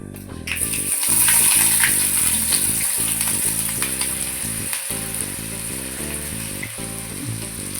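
Onions and mustard seeds sizzle in hot oil for a spinach kootu tempering, a steady hiss of frying running throughout beneath a musical backing track.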